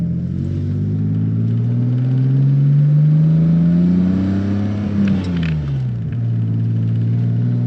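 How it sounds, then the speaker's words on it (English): A 1992 BMW 535i E34 engine rumbles steadily at close range while driving, its pitch rising and falling with revs, with a rough, raspy edge throughout from an exhaust leak. "Bit of an exhaust leak, but nothing that you can't fix."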